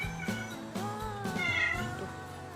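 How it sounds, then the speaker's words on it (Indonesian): A cat meows several times in quick succession, close and clear, with drawn-out, wavering cries. "Kan dengar itu adalah suara kucing aku"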